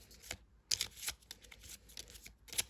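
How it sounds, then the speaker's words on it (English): Someone shuffles a deck of tarot cards by hand, making a few soft, close riffling bursts with short quiet pauses between them and no speech. "I cannot take them all, so I have to shuffle and see which of these 2 will fall out"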